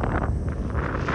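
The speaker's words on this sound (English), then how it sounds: "And it's quite breezy." Steady breeze buffets an outdoor microphone on an overcast day, with a dense, continuous low rumble of wind noise and no voices.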